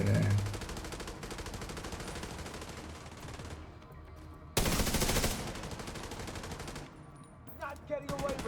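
An RPK machine gun in a video game firing long, rapid automatic bursts, loud and close, with a brief pause and then another heavy burst.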